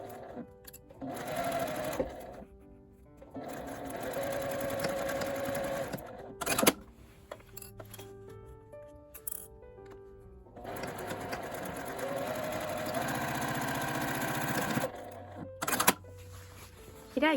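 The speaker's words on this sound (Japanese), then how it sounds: "真ん中を開けて2センチの縫い代で縫います。" Sewing machine stitching a seam with a 2 cm allowance on a fabric hanging tissue cover: whirring, rapid-ticking runs several seconds long, separated by pauses with a few clicks, close and clear.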